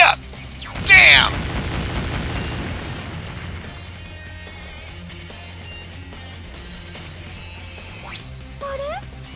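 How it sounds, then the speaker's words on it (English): An explosion in the video game Mega Man X Dive: a sudden loud boom bursts in about a second into gameplay, then rumbles and fades under game music and character voice effects. "That explosion seems to inflict a bit of damage."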